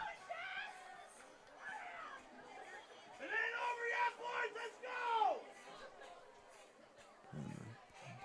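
Large crowd at a packed high school football home opener at North Tonawanda, a steady murmur of chatter and distant cheering that swells in the middle, with louder voices rising above the hubbub.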